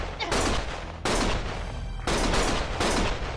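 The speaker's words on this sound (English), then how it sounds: "Stop shooting!" Loud, sustained bursts of automatic gunfire in the video game Lost Judgment, arriving in four dense waves separated by brief abrupt breaks.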